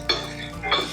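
Finely chopped onion goes into hot oil tempered with cumin and asafoetida for a drumstick (moringa) fry, giving two close, clattering bursts of stirring against the pan over a low sizzle. No one speaks.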